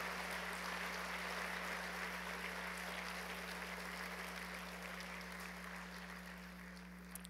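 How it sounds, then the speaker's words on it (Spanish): A church congregation applauds during a sermon. The clapping is a faint, steady, hissing wash that sounds distant and roomy, with a constant low electrical hum underneath, and it fades slightly toward the end. "Dale un aplauso fuerte a Jesús porque Él no es hombre."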